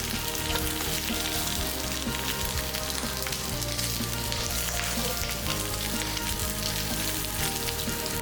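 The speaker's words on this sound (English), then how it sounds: "Brown the pork belly on both sides." Pork belly browns in a pan without added oil, giving a loud, dense, continuous sizzle and crackle of frying fat that fills the whole stretch with no voices.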